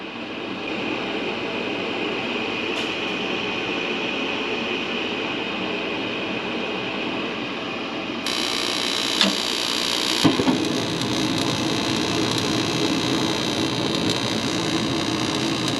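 A garage heater converted to propane runs with a steady broadband rush that swells into a louder burner roar partway through, marked by a couple of sharp clicks, with no talking.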